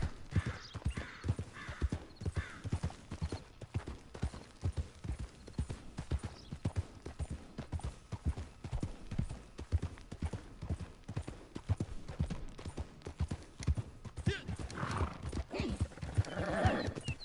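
Steady clip-clop of a horse's hooves in the video game Red Dead Redemption 2 Online at a slow walking pace, continuous and fairly close, with occasional faint vocal sounds in the background.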